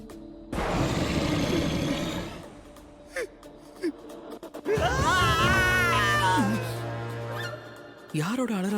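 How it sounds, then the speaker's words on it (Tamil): A scream in a Tamil-dubbed episode of the anime Wistoria: Wand and Sword, a loud, strained wavering cry rising over a dramatic noisy backdrop with short gasps and a voice afterward. "யாரோட அலறல் சத்தம் அது?"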